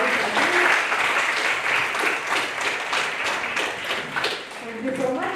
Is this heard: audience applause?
yes